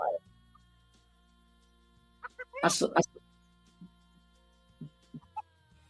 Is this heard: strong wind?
no